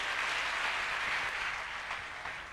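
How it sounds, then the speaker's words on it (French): A church congregation applauds at a French-language service, a dense continuous burst of clapping filling the room for a couple of seconds with no voices over it. "Acclame Jésus"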